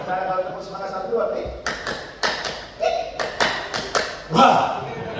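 An audience at a leadership training meeting claps in a rhythmic one-two pattern: a series of sharp, evenly spaced group claps with voices calling out around them.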